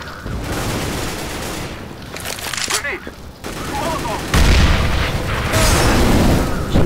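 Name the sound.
machine gun fire in CS:GO video game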